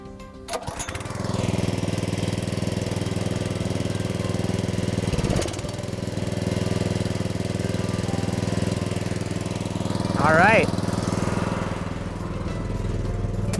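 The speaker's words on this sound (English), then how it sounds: "now I'm gonna turn on the hydraulic pump so we can get started" A hydraulic pump on soil-sampling equipment runs as a steady, loud engine drone with a low rumble, rising in at the start and holding throughout, with a brief squeal near the end.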